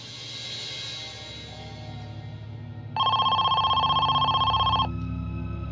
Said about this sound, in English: They hoped this would be the call that could secure Amy's release